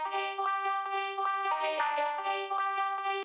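Vocal-like synth lead from a chill piano beat, a sustained, harmonically rich tone gliding through a short phrase of held notes with small pitch shifts, steady and alone.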